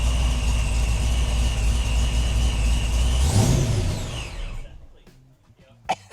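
A freshly rebuilt car engine idles with a steady rumble and whine, then shuts off and winds down to near quiet, leaving only a few scattered clicks and knocks afterward.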